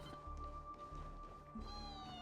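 A cat meows nearby, with a short, clear call standing out over a steady background hum, with no talking over it.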